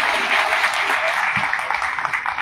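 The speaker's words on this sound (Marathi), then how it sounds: "टाळ्या पण वाजवू" Audience applause at a BJP women's wing gathering in Badlapur, a steady dense clapping from a crowd that holds across the whole stretch at even loudness with no voices over it.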